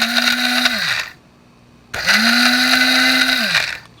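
A kitchen blender pulses a seafood seasoning rub in two loud, close whirring bursts. Each burst spins up and winds down, with a short quiet gap between them.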